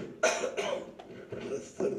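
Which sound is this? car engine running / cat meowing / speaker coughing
speaker coughing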